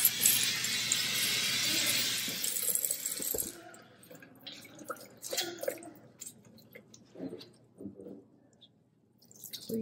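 Water rinses a six-week-old Aussiedoodle puppy in a bath, with a steady loud spray for the first few seconds and then quieter splashes, drips and sloshing.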